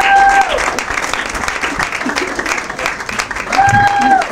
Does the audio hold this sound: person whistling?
no